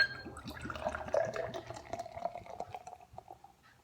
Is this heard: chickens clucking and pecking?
no